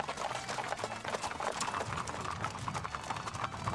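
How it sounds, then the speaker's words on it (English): Horses' hooves clip-clopping during a horse drive in Montana, many overlapping hoofbeats in a continuous uneven patter, moderately close, with no talking over them. "we try to get everybody to the lead of this horse drive at least once"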